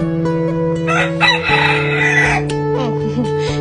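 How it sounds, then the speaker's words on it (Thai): A rooster crows loudly once, a long drawn-out call, with a steady low hum running underneath and no talking. "ไก่ก็ขันดีจัง"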